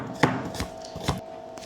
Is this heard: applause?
no